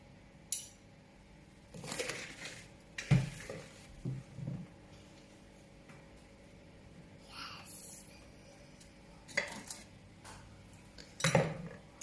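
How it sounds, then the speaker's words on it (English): A spoon scrapes a sticky mix of Rice Krispies and marshmallow off another spoon into paper cases: scattered soft scrapes and metallic clinks in short bursts, close and fairly quiet, with a few longer pauses between. "And you can scrape it off with the other spoon into the Rice Krispie case."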